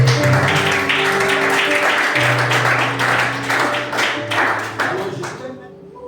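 A church congregation claps and cheers loudly and continuously, a dense crowd noise with rhythmic clapping and music underneath, slowly fading toward the end while a voice speaks briefly over it.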